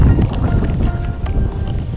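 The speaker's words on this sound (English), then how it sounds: "it's pretty windy here" Strong coastal wind in Greece's Peloponnese buffets the microphone with a constant low rumble, broken by faint scattered knocks and rustles.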